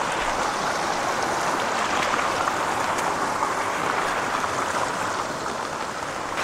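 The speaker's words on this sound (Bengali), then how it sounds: "পাথরের ফাঁকে ফাঁকে প্রবাহিত হচ্ছে ঝর্ণা থেকে বয়ে চলা পানি" Water from a waterfall flows between large rocks in a forest stream at Bilaichari, Rangamati, making a steady, even rush that fills the whole clip without pause or voices.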